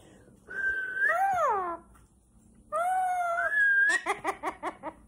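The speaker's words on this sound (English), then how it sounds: "Can you whistle?" A pet parrot whistles two rising and falling tonal phrases, then ends with a quick run of short chirpy notes, close and clear with quiet gaps between.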